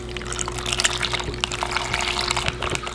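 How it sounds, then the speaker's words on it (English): Chicken broth pours into a duck gumbo pot in a steady, splashy stream, continuous and fairly close over a low background hum. "I'm just gonna pour that down in there"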